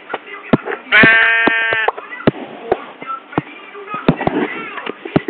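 Sheep bleat in several loud, wavering calls, one long cry standing out, mixed with sharp sporadic clicks and knocks and some indistinct voices in the background.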